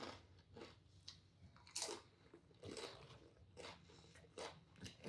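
Crunchmasters crackers being chewed up close, with repeated loud crunchy bites and chewing bursts in an irregular rhythm, without any talking.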